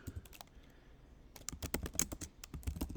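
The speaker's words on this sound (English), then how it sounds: "Stat smooth, I'm typing stat smooth here." Quiet, irregular keystrokes clatter on a computer keyboard, with a brief lull before a faster run of typing resumes.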